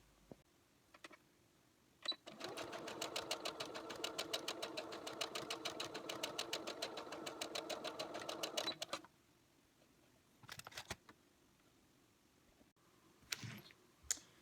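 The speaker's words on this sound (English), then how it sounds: "I did a zigzag stitch on this side just to reinforce it, so the stitch won't fray" A sewing machine stitches pillow fabric in one rapid, even run lasting about seven seconds, then stops, followed by a few faint handling clicks and rustles.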